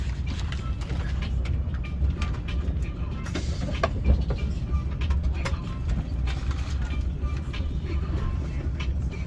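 Steady low rumble of a train rolling along rails in Spain, heard from inside a carriage, with faint clicks and rattles over the track, no talking.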